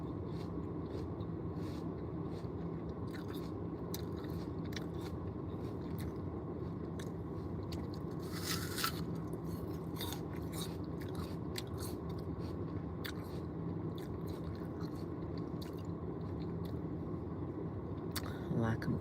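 Someone chews a firm, crunchy apple up close, with steady bites and munching over a continuous low engine-like hum, briefly joined by a louder rustle partway through.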